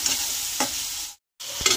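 Spices with turmeric and Kashmiri chilli powder stir-fried in oil, a loud, close sizzle with sharp stirring scrapes, one brief silent gap, no one speaking.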